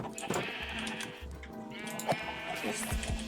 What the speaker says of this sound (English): so many fucking sheep